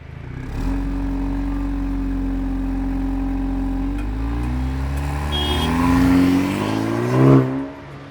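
A Maserati Grecale SUV's exhaust roars as it accelerates hard, its engine note climbing through the revs with a gear-change dip midway and a final loud burst near the end, close and with no talking.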